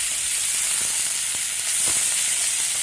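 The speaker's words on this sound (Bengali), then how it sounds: "अब इसको अच्छे से फ्राई कर लूंगी।" Thinly sliced pumpkin and potato frying in a pan, a steady bright sizzle with occasional soft stirring clicks, close and continuous.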